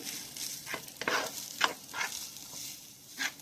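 Thick tomato paste stirred and broken up in a pan while cooking Vietnamese red rice, giving a steady soft sizzle with several distinct scraping strokes spaced about half a second apart, close and fairly quiet.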